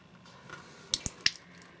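Water from a neti pot drips from a nose in a few distinct wet drops and squishy splats, close and fairly quiet against a low background hiss.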